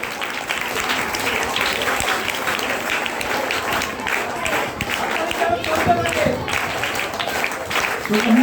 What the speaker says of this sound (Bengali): জোরে করতালি হয়ে